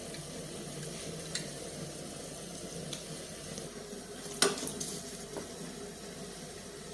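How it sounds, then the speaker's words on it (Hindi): Chicken Manchurian sauce comes to a boil in a pan, a soft, continuous bubbling sizzle with a few small pops and clicks, heard alone without talk. "ये देखें बॉयल होना शुरू हो गया"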